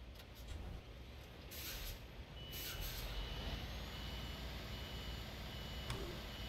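A truck in Euro Truck Simulator 2 reverses with faint, steady beeping under a continuous engine drone, with a brief air-brake hiss and no talking.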